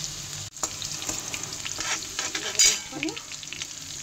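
Garlic sizzles in hot oil in a pan, a close, continuous crackling hiss with stirring scrapes and a brief clatter partway through.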